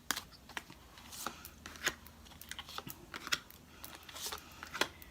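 Tarot cards are shuffled in a steady run of light papery flicks and soft snaps, close but quiet, with irregular clicks over a low background hiss and no talk.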